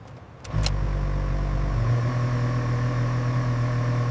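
Engine of a burned yacht starting up and settling into a steady, moderately loud hum, with a low drone that shifts pitch after a couple of seconds and then holds an even tone.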